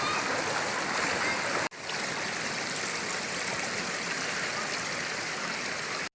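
A river at Inukadan Spring in Paningayan, Culasi, Antique rushes loudly and steadily as people wade across, broken by a brief hush near the start before the full flow of water resumes.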